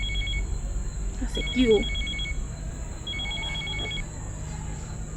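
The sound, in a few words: mobile phone ringing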